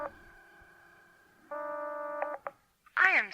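A telephone dial tone holds steadily, then a rapid series of touch-tone dialing beeps follows in a radio horror drama, ending as a voice starts speaking.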